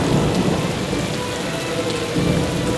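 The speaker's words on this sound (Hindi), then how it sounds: "गर्मी में बारिश?" Steady rain pours down with deep rumbles of thunder rolling underneath, a continuous, close and loud storm with no voices.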